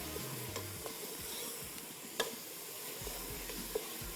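Green masala daal with ghee and khoya frying in a pan, a quiet, continuous sizzle with occasional spoon clicks and scrapes against the pan, close and faint, with no voices.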